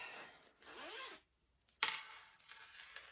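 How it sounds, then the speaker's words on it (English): A zipper on a tote bag panel is pulled open in two quick, close, rasping strokes split by a short pause, and a faint fabric rustle follows. "And then I'll unzip"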